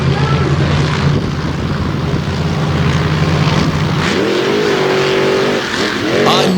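Dirt track race cars roar off the start of an All Star Championship race, engines loud and close, revving together in a dense sustained blare with a rising pitch sweep near the end.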